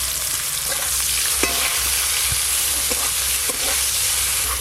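Raw mango pieces fried in oil with a five-spice tempering and turmeric powder, stirred steadily in the pan: a continuous bright sizzle with a few scraping knocks of the spoon, close and loud, no voices.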